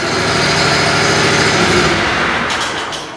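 A Toro stand-on aerator's small engine runs loud and steady close by, a continuous buzzing drone that eases off slightly near the end.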